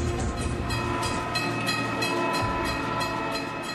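A passenger train rumbling past at close range, a dense, continuous roar of wheels and carriages with a faint rhythmic clatter throughout, loud and steady with no talking.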